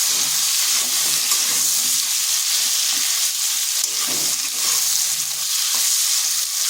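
Pointed gourd seasoned with turmeric and salt fries in a pan over medium heat, giving a continuous, close sizzle that swells and eases slightly as it goes on, with no voices.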